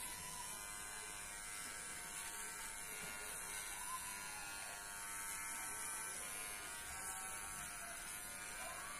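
An electric shaver buzzes steadily as a tetraplegic man shaves his beard using an adapted holder, a continuous thin whine at low level throughout.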